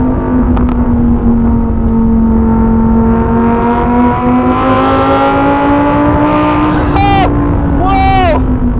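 Lamborghini Huracan EVO RWD Spyder roars loudly and close, its engine tone falling through a downshift before sharp bursts of exhaust pops and crackles near the end.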